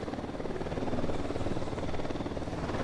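An Unidad military helicopter in Ghost Recon Wildlands churns with a continuous, fairly loud rotor thrum, its steady chopping pulse holding throughout with no voices.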